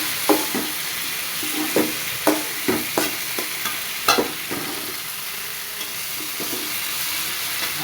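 Curry masala, loosened with a splash of water, is stir-fried in a pan: repeated spatula scrapes and taps land every half second or so over a constant hiss of frying.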